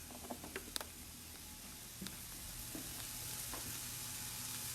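Roma tomato tossed into red onions, garlic and celery frying in olive oil with salt: a soft, steady sizzle with a few scattered clicks and pops of stirring, quiet and close, no voices.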